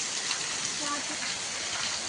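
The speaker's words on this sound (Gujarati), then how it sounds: "હમણાં તો વરસાદ પડે" Heavy rain with wind, a dense unbroken hiss of downpour on surfaces, loud and even throughout, with some faint voices in the background.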